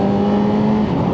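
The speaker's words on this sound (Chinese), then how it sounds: "离合松掉，升档" A CFMOTO 500SR Voom four-cylinder retro racing motorcycle, heard up close with a loud, steady, buzzing engine note as the clutch is released during a brief upshift.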